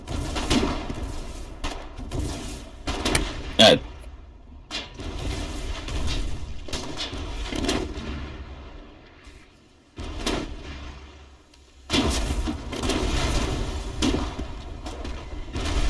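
Bursts of video game gunfire crackle and thump repeatedly, with short pauses between volleys and a steady background rumble throughout.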